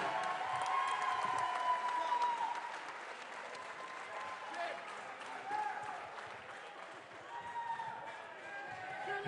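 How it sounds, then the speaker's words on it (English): Crowd applause and cheering fill an arena after the main-event MMA title fight at Cage Titans XXXVIII, a dense, steady roar of clapping that eases slightly partway through and runs for the whole stretch. "let's get a big, big round of applause for these two competitors"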